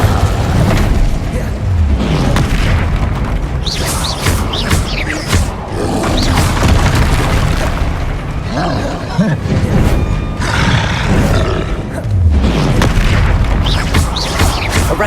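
Confringo fire spell blasts in the Hogwarts Legacy video game, heavy booming explosions and roaring bursts repeating over dense continuous combat noise, with a voice speaking in places.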